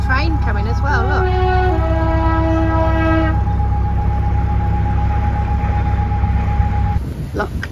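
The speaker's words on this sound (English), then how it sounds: "There's a train coming as well" A train horn sounds in long sustained tones over the heavy continuous rumble of a train rolling past nearby a lock on the Trent & Mersey Canal, ending abruptly.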